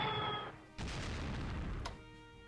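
Artillery bombardment in the Strategic Command: World at War game, a sustained rumbling barrage of blasts that cuts out briefly and then returns as a loud, dense roar of explosions.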